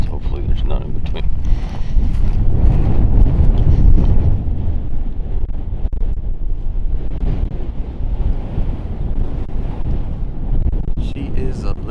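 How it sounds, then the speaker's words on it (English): Strong wind buffeting across open prairie in South Dakota, a steady low roar with gusts that swell louder early on, continuous throughout with faint voices beneath. "She is a little bit windy out today."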